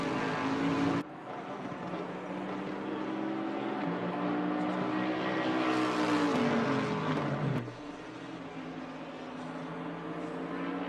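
Lexus RC F GT3 race car engine in the racing game Assetto Corsa Competizione at the Nürburgring, a loud continuous roar rising and falling in pitch through gear changes, with sharp shifts between revs.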